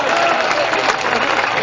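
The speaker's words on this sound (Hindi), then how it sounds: "दोस्तों, एक बार जोरदार तालियां बजा के हौसला दो कि कुछ पड़ रहा है।" Strong burst of audience applause at a mushaira comedy poetry gathering, a dense, loud, even wash of clapping from a large crowd.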